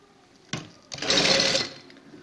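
A sewing machine stitches wide lace onto the edge of a kameez sleeve, starting with short bursts and then running steadily for about half a second, loud and close, with no talk over it.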